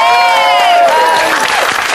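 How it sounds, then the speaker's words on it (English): A studio audience applauds and cheers on a television show, a loud dense wash of clapping while a voice carries over it. "I think that deserves a round of applause."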